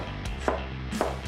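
A kitchen knife trims the skin off fresh ginger on a cutting board, with two crisp, separate knife strikes against the board in quick succession and nothing else around them.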